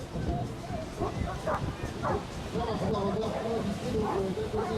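A Newfoundland dog barks at an outdoor wind festival demonstration, its short barks partly buried under someone speaking French close to the microphone.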